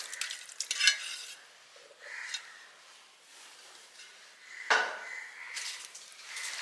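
Lobster pieces frying in masala in a pan: a steady, soft sizzle with several louder bursts of stirring and scraping against the pan, close and fairly quiet, no talking.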